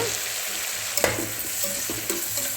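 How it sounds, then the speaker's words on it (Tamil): Onions and green chillies sauté in a pan for Muslim-style plain kuska, with a constant loud sizzle and occasional stirring scrapes and taps, up close. "சேர்த்துட்டு வெங்காயம் நல்லா வதக்கி விட்டுடுங்க"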